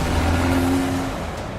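A 2020 Volkswagen Golf R engine accelerates on the open road, a loud, steady drone with a low hum and broad road noise that eases slightly toward the end.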